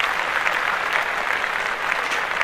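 A short canned applause effect on a podcast: a steady, even crowd clapping, moderately loud and unbroken, with no voices over it.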